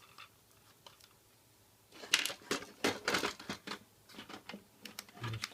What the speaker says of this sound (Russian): Убираем скотч.